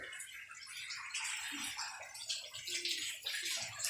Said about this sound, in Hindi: बाजू सही धोवो, 3 दफा पानी ऊपर डालो इसके